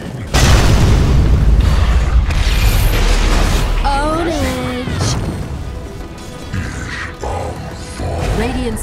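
Tower falling in the Dota 2 video game, heard as loud booming crashes and rumbling impacts layered with game effects and an announcer-style voice throughout.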